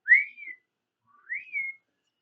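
A person whistles two rising and falling notes separated by a short pause, imitating a whistle heard outside a window. The whistling is clear and close, with silence around it.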